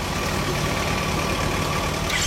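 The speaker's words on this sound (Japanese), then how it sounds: "OK、 エンジン音聞かせてもらえる？" A 2014 Kawasaki Z250 motorcycle fitted with a Beet Japan exhaust idles steadily up close, an even, unbroken engine burble with no voices over it.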